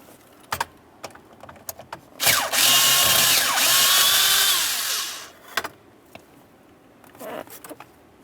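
A power driver spins a 5.5mm socket to remove the shift bracket mounting bolt on a 2001-2005 Ford Explorer Sport Trac. It gives one close whirring burst of about three seconds, with scattered small clicks and taps before and after.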